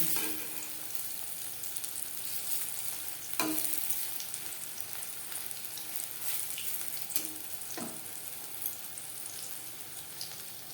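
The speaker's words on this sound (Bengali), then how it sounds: "প্রত্যেক ব্যাচের পাকোড়া একইভাবে ভেজে নেব।" Onion and cabbage pakora fry in hot oil, a steady soft sizzle with occasional louder crackles and a few stirring clinks, fairly quiet and alone.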